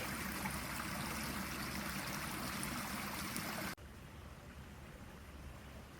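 Creek water runs under a trail bridge, a steady, soft rushing hiss that drops to a quieter level partway through, with no voices.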